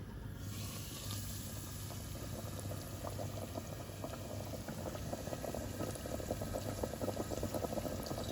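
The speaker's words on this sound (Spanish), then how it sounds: "Ahí el aceite calentándose en la olla de hierro" Oil heats in an iron pot over a fire, making a continuous bubbling, roiling hiss that holds steady and grows a little livelier near the end, with no voices.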